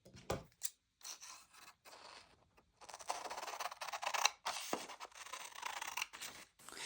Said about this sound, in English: use your pattern and your grid ruler to help you cut the pieces out